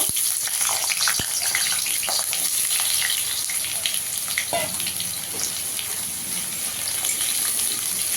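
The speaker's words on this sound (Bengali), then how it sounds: "এবার আলুগুলো আগে ভেজে নেব" Potatoes fry in oil in a kadai, giving a constant, close bubbling sizzle with a few sharp clinks of utensils and little else around it.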